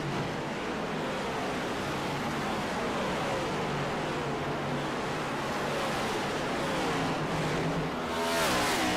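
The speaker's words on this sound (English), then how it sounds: "I think they might be downshifting into turn 1 and 2." Race cars roar through turns one and two at Richmond Raceway in a stock-car racing game, a dense, steady engine drone with faint gear shifts and rising pitch near the end, no talk.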